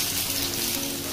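Ginger and onion frying in hot oil, a steady close sizzle with continuous crackling throughout.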